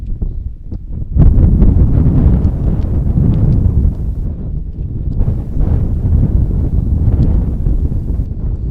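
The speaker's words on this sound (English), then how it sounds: "Wind kicking up a little bit." Gusty wind buffeting a microphone at an outdoor high school baseball game in Cocoa Beach, loud low rumbling bursts rising and falling, with faint rustling in between.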